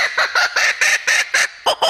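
Laughing kookaburra, an Australian native bird, giving its territorial call: a rapid series of loud, harsh, cackling bursts repeated in quick rhythm, close and alone with no talk.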